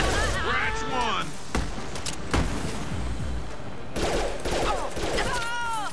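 Rapid weapon fire in the video game Mass Effect 2, sharp repeated shots and bursts scattered through a noisy battle scene, with voices shouting in between.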